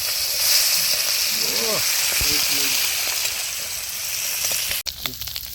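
Freshly caught fish fry crisp in hot oil in a village kitchen, producing a loud, continuous sizzle. A voice speaks briefly over it, and a clatter comes near the end.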